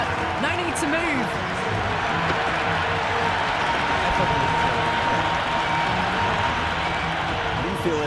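Crowd noise swells continuously in the Cricket 26 video game after a big hit into the stands for six in an IPL match, with a commentator speaking over it throughout.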